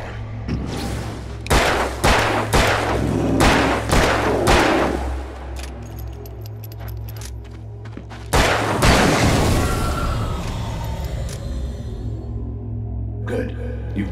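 Gunshots from the Alan Wake video game sound as a run of sharp, loud blasts early on and a heavy booming shot later, each trailing into a ringing decay over a low, steady game drone.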